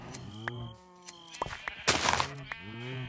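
Several Minecraft sheep bleat in turn, their wavering, nasal cries rising and falling across the clip, mixed with brief clicks and a burst of noisy game activity in the middle.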